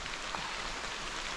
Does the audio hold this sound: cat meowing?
no